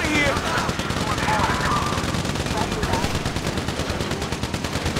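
Rapid bursts of automatic gunfire from Grand Theft Auto V story mode, played on Xbox Series X, crackle steadily through a shootout with voices faintly underneath.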